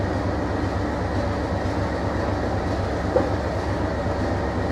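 A train rumbles steadily and close by as it approaches a stop at a signal box, with a continuous broadband roar of rolling wagons and a faint short squeak partway through, no voices.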